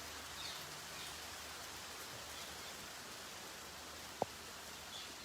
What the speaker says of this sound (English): Enjoy the rain in Vrindavan Dham.